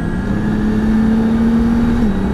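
Nissan Juke-R accelerating on a speed ring, a loud, steady engine drone that climbs slightly in pitch and then drops near the end.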